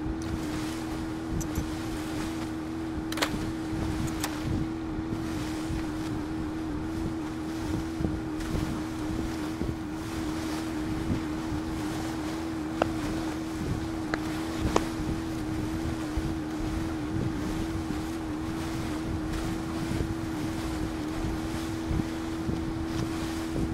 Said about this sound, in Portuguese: tá muito barulho aqui esse barco